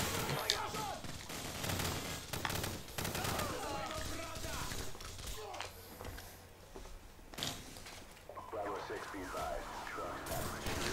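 Rapid machine gun bursts and scattered gunfire ring out in the Call of Duty 4: Modern Warfare video game, a dense, continuous fusillade at moderate volume beneath excited players talking.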